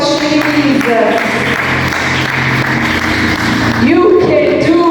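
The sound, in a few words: congregation clapping hands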